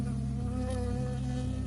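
A bee in the video game Firewatch buzzes steadily and close in a continuous loud insect drone just before it stings, with no talking.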